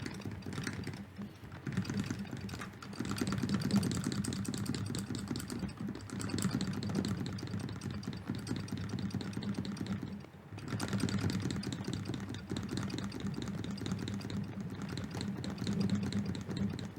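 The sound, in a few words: running footsteps in Atari 2600 video game Decathlon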